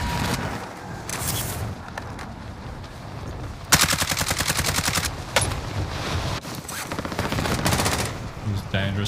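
Sustained bursts of automatic machine gun fire in Call of Duty Warzone, a 100-round weapon rattling in long rapid strings, loudest from the fourth second onward, with scattered gunshots and game noise between bursts.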